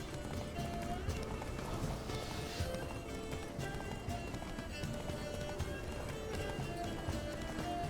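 Galloping hoofbeats of Geralt's horse in the video game The Witcher 3: Wild Hunt, a fast continuous clatter of hooves with a whinny, carried under game music and effects at moderate level.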